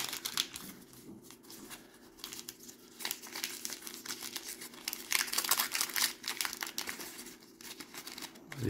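Foil Panini sticker packets for the Qatar 2022 World Cup album being torn open and handled, giving bursts of close crinkling, crackling and ripping with brief pauses between them, and no voices.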